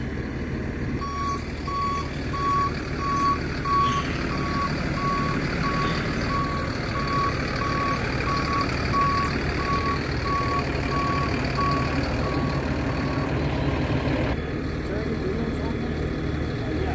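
A truck's backup alarm beeps in a steady, even rhythm for about twelve seconds while it reverses for a scrap-yard bin drop, sounding over a constant loud diesel engine rumble before cutting off.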